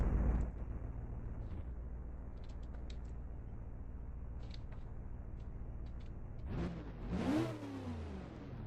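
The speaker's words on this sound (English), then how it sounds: "As we hear that pace car driving now." A pace car engine in a racing video game hums and drones steadily, then revs up with rising and falling pitch toward the end, fairly distant and without talk.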